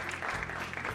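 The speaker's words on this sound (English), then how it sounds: "I think huge round of applause for Sunil." Audience applause for a speaker at a CMA career event fills the whole moment, dense and steady with no voices on top.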